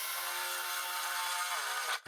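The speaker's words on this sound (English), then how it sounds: "it's time to start drilling those other holes." A power drill bores holes into a portable DIY solar generator case, a loud, steady high-pitched whir that holds constant and then stops abruptly near the end.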